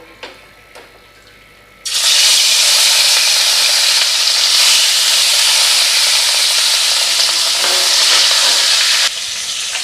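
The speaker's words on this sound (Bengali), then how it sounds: "এবার আমি মাছগুলো ছাড়বো" Rui fish pieces go into hot salted oil after a quiet start, bursting into a loud, steady sizzle of frying that holds for several seconds before easing off near the end.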